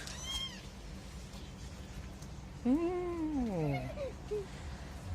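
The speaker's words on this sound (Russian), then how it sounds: "Два котенка привезли." Two kittens meowing nearby: one short high mew at the start, then after a pause a louder, drawn-out falling meow followed by a brief squeak, over low background hum.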